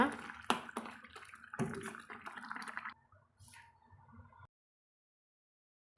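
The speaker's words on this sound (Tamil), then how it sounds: "இதை நல்லா கொதிக்க விட்டு ஒரு ரெண்டு நிமிஷத்துக்கு ஒருக்கா நல்லா கலந்து விடணுங்க" Soya chunk gravy bubbling and simmering in a pan, a soft wet burble with intermittent splashy pops that fades to quiet near the end.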